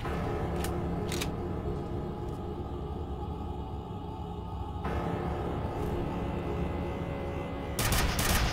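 Rapid gunfire from the online shooter F.E.A.R. Online, a steady stream of loud, dense shots with a few sharper bursts standing out near the start and a heavier volley at the end.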